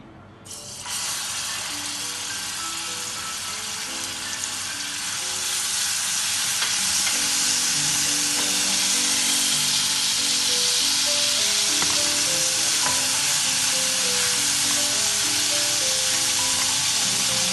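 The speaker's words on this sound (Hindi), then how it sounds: "इसमें मैं ये थोड़ा सा जो मैंने लहसुन अदरक रखा था ये डालूंगी।" Garlic and ginger sizzle and crackle steadily in hot oil as they are dropped into the pan, the frying growing louder and denser over time.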